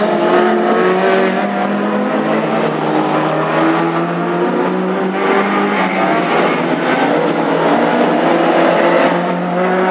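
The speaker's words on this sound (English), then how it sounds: "Chevrolet now going for the outside line on Willis." Race cars, classic hot rods in a Birmingham stakes final, roar continuously around the track, engines loud and sustained with shifting pitch as cars battle for the lead.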